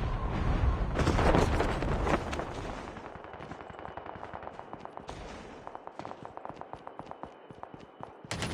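Heavy explosion and rumbling blast in Call of Duty Mobile battle royale, loud and dense up front, giving way to rapid bursts of automatic gunfire crackling steadily through the rest of the moment.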